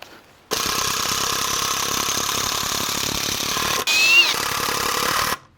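A power driver runs continuously while screwing into a PVC window frame, a loud, close, steady whirring buzz that shifts pitch briefly near the end before stopping.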